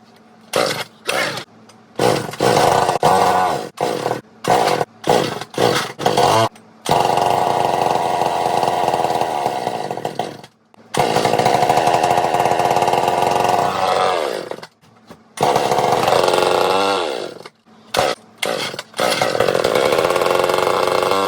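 Vintage bow saw chainsaw engine sputtering to life, first in short bursts between pauses, then running in long, loud, ragged stretches with a couple of cut-outs before more brief revs, close by.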